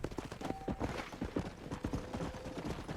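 Horse hooves clip-clop in a steady trotting rhythm in the video game Red Dead Redemption 2, close and moderately loud with faint background game sounds.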